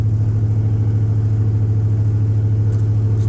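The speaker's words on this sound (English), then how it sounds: "the exhaust is loud as all get out" A loud, steady LS-swapped short-bed truck engine with a 100-shot nitrous setup rumbles with a deep throaty exhaust note, idling continuously and close by, with no voices.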